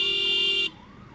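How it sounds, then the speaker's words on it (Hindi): An ambulance siren in Bangalore city traffic sounds close and loud as a steady, high tonal blare, then cuts off abruptly after about half a second, leaving only low traffic rumble. "मेरे पीछे शायद से एम्बुलेंस आ रहा है"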